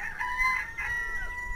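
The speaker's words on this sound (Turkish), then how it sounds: "Bizim tavuk ve horozlar yine susmaz oldular." Backyard chickens and roosters crow and cluck together in a continuous chorus, loud and close, with several overlapping calls heard from a balcony and no talking.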